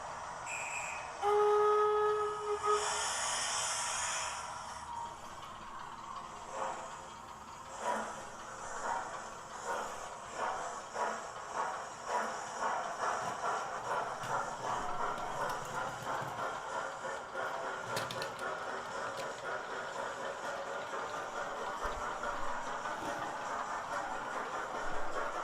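A model railway train hauled by a Black 5 locomotive runs round a layout, opening with a whistle and then a steady rhythmic clatter of wheels over rail joints, continuous and fairly close.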